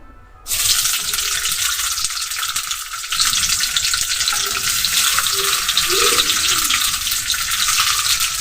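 Onion and garlic frying together in a pan, a loud, steady sizzle that starts abruptly and runs continuously throughout with light stirring underneath.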